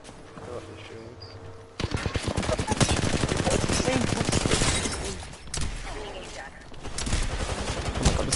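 Rapid bursts of gunfire from an Apex Legends match ring out loud and close, a steady rattling stream following a quiet opening, with a player talking over the shooting.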